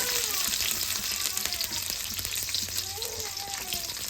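Ginger, garlic and pulao spices frying in hot oil in a kadai, a continuous, fairly loud crackling sizzle with small pops and faint stirring, close up.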